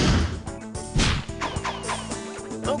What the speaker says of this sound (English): Here's the sound of one bat wing flapping.